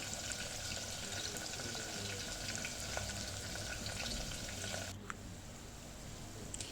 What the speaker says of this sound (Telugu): చాప్ చేసుకున్న ఆనియన్స్ అండ్ చిల్లీ అయితే వేసుకోవాలి వేసుకొని అయితే మనం కొంచెం కలుపుకోవాలి